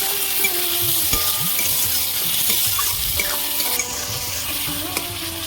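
Chopped tomatoes with salt fry in a pan, a loud close sizzle with frequent spoon scrapes and clinks as they are stirred, no talking.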